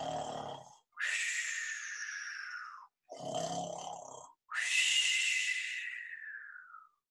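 A storyteller imitates a sleeping bear's snoring with the voice: two long, drawn-out snore sounds, each a steady rasping breath fading at the end, alternating with short breathy inhales, loud and close.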